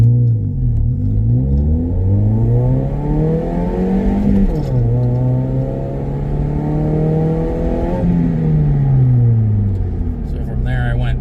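A 2010 Toyota Yaris pulls hard through first and second gear into overdrive, engine note rising, dropping at each shift and rising again, steady and fairly loud from inside the cabin.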